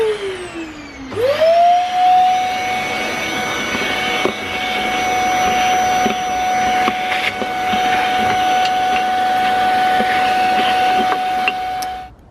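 A vacuum cleaner motor spins up with a rising whine and then runs loud and steady while sucking leaves out of a car engine bay, with occasional rattles of debris before it winds down at the end.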